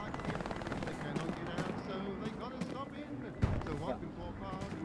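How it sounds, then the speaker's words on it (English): Gunfire in the Hell Let Loose video game rattles in sharp, scattered shots and bursts beneath ongoing speech. "Now get in this barn and start shooting things."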